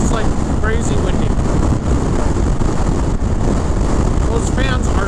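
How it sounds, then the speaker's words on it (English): Strong coastal wind buffets the microphone in a loud, continuous roar with gusty low rumbling, and faint voices come through underneath. "It is so windy out here."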